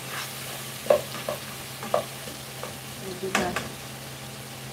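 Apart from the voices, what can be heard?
stirring tomatoes in a frying pan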